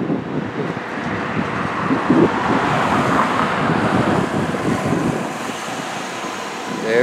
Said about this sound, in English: Now the rent-a-cops are driving.